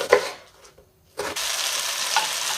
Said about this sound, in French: Mes oignons commencent à dorer